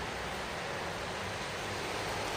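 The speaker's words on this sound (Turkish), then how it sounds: "çok şiddetli ve Lodos'la rüzgarla birlikte yağıyor" Dense, steady broadband rush of heavy rain driven by strong wind, continuous and fairly loud with no voices.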